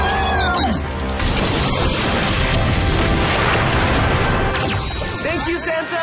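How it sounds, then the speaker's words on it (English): A bomb explodes in a Power Rangers Super Ninja Steel TV episode, a loud crashing boom lasting several seconds, with a voice and sound effects mixed in. "It's a bomb!"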